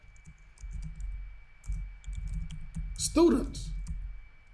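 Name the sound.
computer keyboard typing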